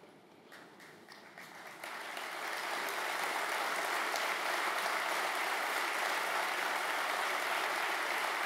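Audience applause at a political party convention in Grenoble, starting with scattered claps and swelling within two seconds into steady, dense clapping from a large crowd that carries on loud and unbroken.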